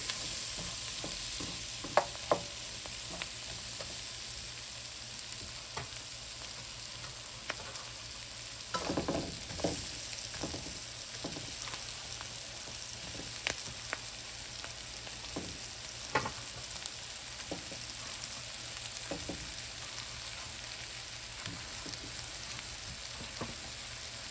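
Garlic fries in a pan with a constant soft sizzle, punctuated by occasional scraping knocks of a spoon stirring it around.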